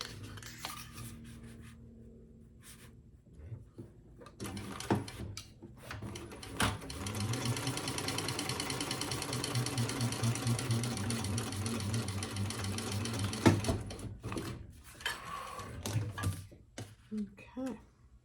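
A home sewing machine stitching a Busta Bag, starting with short bursts and then running in a long, fast, steady whir close by, with a few clicks and handling noises around it.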